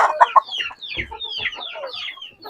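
Chickens clucking and squawking in a barnyard pen, several birds calling in quick overlapping bursts, close and fairly loud with no talk.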